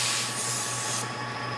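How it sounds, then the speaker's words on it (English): A spray nozzle puts a light mist of water onto a sieve tube of mineral sediment, a loud steady hiss close by that cuts off sharply partway, leaving a lower hum. "with the spray nozzle, you want to just do a light mist"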